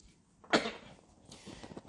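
A single sharp cough from a preacher during a sermon, close and abrupt, followed by quieter breathy throat noise.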